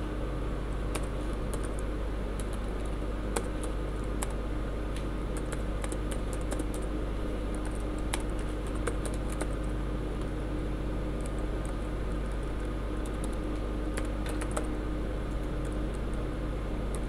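Fingers tap away at a computer keyboard in a steady stream of light clicks, close but soft over a constant low hum, with no voices.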